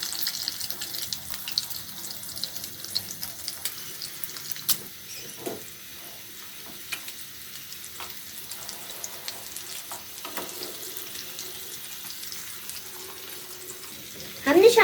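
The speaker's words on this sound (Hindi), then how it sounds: "सबसे पहले हम टिक्के को अंडे के अंदर डिप करेंगे और फिर फ्राई करेंगे।" Shami kabab patties dipped in egg fry over a medium flame, giving a steady, soft sizzle throughout with a few faint clinks and scrapes, no talking.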